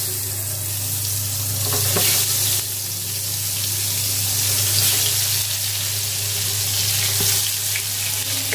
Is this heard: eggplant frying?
yes